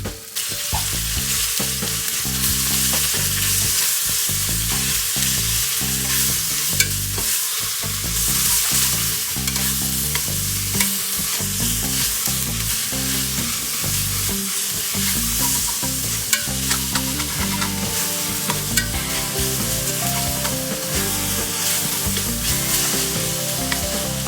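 Large onions and ginger fry in a pan for a mushroom biryani cooked in a pressure cooker, a loud continuous sizzle under steady rhythmic scraping and stirring strokes that run throughout, with no voices.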